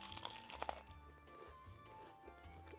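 Someone bites into a crunchy paratha stuffed with samosa filling, producing a few close, crisp crunches and crackles at the start before quieter chewing follows.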